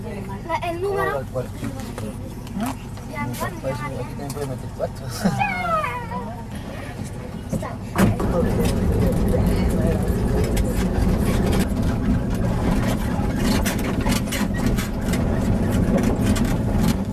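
A small bus grinds along mountain roads in Bolivia, its engine and road noise rising suddenly into a loud, steady rumble about halfway through, after a stretch of voices and cat-like cries.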